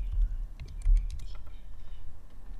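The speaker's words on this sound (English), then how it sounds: "I'm going to type it" Fingers type on a computer keyboard while text is entered into jewelry CAD software, a quick irregular run of soft clicks over a low steady hum, close and moderately loud.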